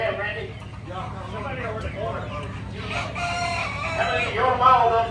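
Buff Orpington roosters crow and cluck at a small-animal auction, several overlapping calls rising over a busy crowd with people talking throughout.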